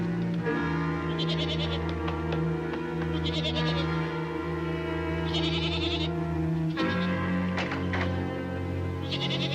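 Several goats bleat repeatedly, wavering calls rising over a steady background of sustained tones, close and clear.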